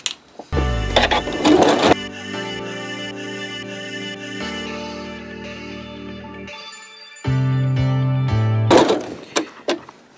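A sewing machine stitches a rope bowl in short runs, its whirring motor starting and stopping with changes in pitch between bursts and a few sharp clicks at the ends.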